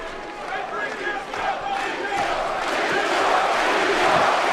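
Arena crowd at a Klitschko versus Thompson heavyweight boxing fight rises in a growing roar of cheering and shouting after a right hand lands, building steadily louder under faint commentary.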